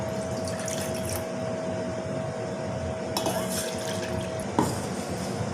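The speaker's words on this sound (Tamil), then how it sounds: "ரசத்துக்கு வந்து நான் பாசிப்பருப்பு தண்ணி வந்து எடுத்து வச்சுருக்கேங்க சேர்த்திக்கலாம்" Cooked moong dal water is poured into green coriander rasam in a pot, a steady liquid pour with a faint underlying hum and a brief utensil knock near the end, no talk.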